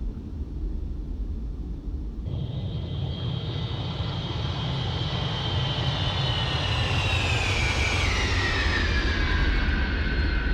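Avro Vulcan bomber engines drone in a flight simulator during a low-level run, a loud steady roar that swells after a couple of seconds into a bright whining tone gliding downward, with no one talking.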